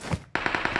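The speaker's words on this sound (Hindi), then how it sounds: "चलो चलो, जहाँ से फायर आ रहा है वहाँ से चलते हैं।" Rapid automatic gunfire in a PUBG-style battle royale shooter, a loud steady burst of evenly spaced shots starting abruptly after a brief quieter moment, with no voices over it.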